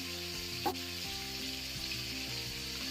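Green masala and mutton sauté in oil, a soft, steady sizzle running the whole time, with a faint hum underneath and no voices.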